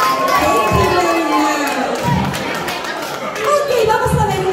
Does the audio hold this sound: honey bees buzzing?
no